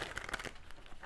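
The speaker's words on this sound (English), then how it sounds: "I'm just going to split the deck, give them another quick shuffle." Tarot deck being split and quickly shuffled, a brief crisp riffle of card papers flicking together, soft and close, then fading into quiet room tone.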